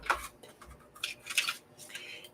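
Scissors snip through paper during a circle-pocket papercraft project, a few short crisp cuts in quick bursts, close and fairly quiet with no talking.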